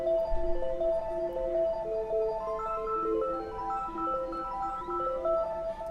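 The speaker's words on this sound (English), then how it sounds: "when it breaks down, have this melody come in with the ARP, which sounds like this" A synth arpeggio built from an Omnisphere chord in a beat made with Maschine and FL Studio: bright stepping notes repeat in a steady pattern over a low pad, sitting alone at moderate level.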